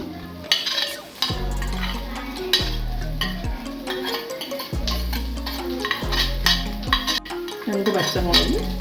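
Chopped onions dropped into hot oil in a pan for a crab curry, a close sizzle broken by repeated sharp scraping and clinking strokes of a spoon stirring against the pan, with a faint voice in the background.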